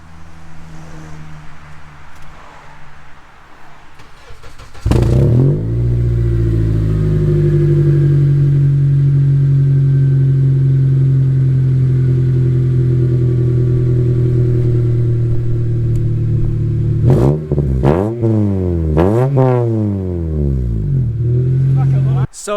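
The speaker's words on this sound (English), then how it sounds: "gonna see what the 3-inch with no muffler sounds like on the Accord" Honda Accord engine with a 3-inch exhaust and no muffler, idling with a loud, deep drone, then revved several times, rising and falling sharply near the end, close and loud.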